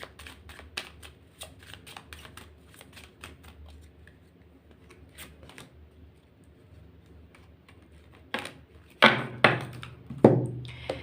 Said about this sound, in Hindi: मैं थोड़े से कार्ड डिफरेंट तरीके से निकालती हूँ